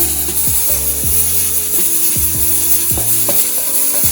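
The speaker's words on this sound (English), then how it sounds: "And I'm going to scrape out the rest now. Scrape the rest." A utensil scrapes the rest of a thick mixture out of a bowl or pot in a kitchen, a run of close, loud, ratcheting scrapes coming in quick, uneven strokes with no talk.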